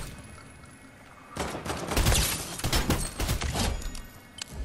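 Rapid bursts of gunfire in the Fortnite video game, dense and loud volleys of shots continuing for several seconds after a quieter opening.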